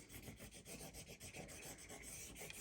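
Packaging tape is burnished onto a paper mini album hinge with quick rhythmic rubbing strokes. The rasping is close but quiet, with no talking.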